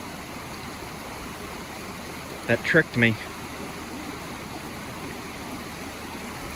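A small creek beside a roadside pull-off flows with a steady, even rush throughout, while someone speaks briefly in the middle.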